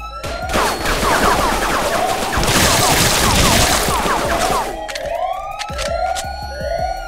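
Rapid bursts of police gunfire in a Roblox hood shooter game, dense overlapping shots layered with wailing siren sweeps, loud and continuous throughout.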